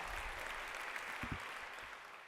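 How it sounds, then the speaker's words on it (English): An audience applauds at a Harvard symposium, a steady wash of clapping from many hands that sounds somewhat distant and soft, continuing evenly throughout. "hearing the thunders of the applause"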